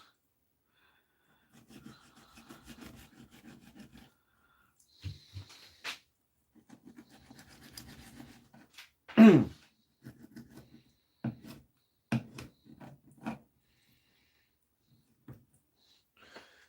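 A knife cutting a V out of a fish fillet, heard as soft scattered rasping, scraping strokes and taps, close and quiet, with pauses between.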